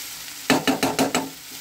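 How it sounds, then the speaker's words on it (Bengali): Ghee being stirred into a cooking radish dish, five quick rhythmic scraping strokes of a spoon against the pan with a light sizzle beneath, close and fairly loud. "এখন এর মধ্যে আমি দিয়ে দিচ্ছি 1 চা চামচ ঘি।"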